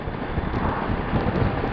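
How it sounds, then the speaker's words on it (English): Strong, buffeting wind roars steadily across a moving motorcycle on a coastal ride, with the low rumble held at a constant, close level for the whole stretch. "we got battered by a load of wind. Crazy strong wind. It's still going a little bit now"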